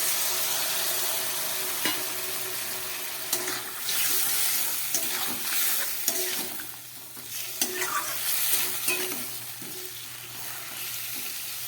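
Broccoli and beans frying in a pan as a little water goes in, producing a continuous hiss and sizzle with repeated stirring scrapes and clinks throughout, fairly close and without talk.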